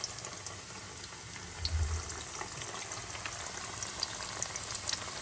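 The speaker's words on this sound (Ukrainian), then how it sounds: "Кладу чебуречки, жаримо з обох сторін." Chebureki frying in hot oil, a steady soft sizzle and crackle with occasional small pops, low in level and continuous.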